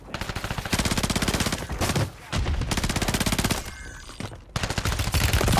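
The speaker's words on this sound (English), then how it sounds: "I don't know what business they have shooting" Rapid automatic gunfire from Call of Duty: Warzone Resurgence mode: dense, loud bursts of shots with short pauses between volleys, fairly close and continuous through most of the stretch.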